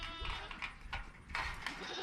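Goats bleating on a farm, a few short, quavering calls at moderate distance over a soft background.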